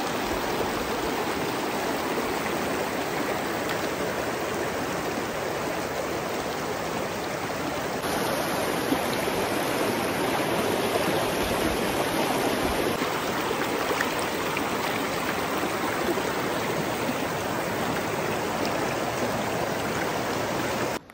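A river stream flowing through the forest at Similipal National Park, a constant broadband rush of water that holds steady for the full length, with no voices.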